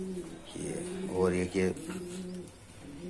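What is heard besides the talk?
pigeons cooing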